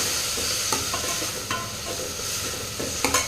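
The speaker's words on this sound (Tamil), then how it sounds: "வதங்கட்டும் இப்போ தக்காளி வந்து நல்லா வதங்கிடுச்சுங்க" Tomatoes with salt sautéing in a pan, a steady close sizzle with occasional scraping stirs of a utensil, no voices.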